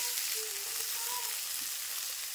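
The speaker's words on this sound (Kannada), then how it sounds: "ಈ ಉಳ್ಳಾಗಡ್ಡಿ ಫ್ರೈ ಮಾಡ್ಕೋಬೇಕು" Finely chopped onions fry in hot oil in a home kitchen, giving a steady, close hiss of sizzling that holds evenly throughout with no voices.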